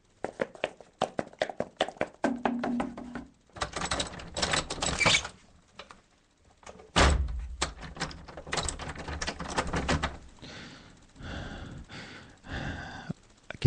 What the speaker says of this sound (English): I got inside and locked every door.